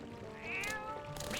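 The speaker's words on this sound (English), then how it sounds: "That fucking cat stole my fish." Cat in the video game Twilight Princess gives one short, clear meow that rises and falls over steady game background sound, with no talk.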